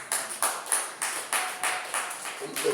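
A church congregation claps for Jesus, nine or ten sharp, evenly spaced claps blending into a loose rhythmic patter, fairly close and moderately loud.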